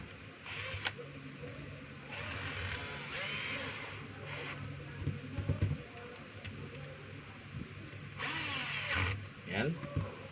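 A DeWalt DCD796 cordless drill drives a screw in several short, whirring bursts separated by quieter pauses, close by and moderately loud.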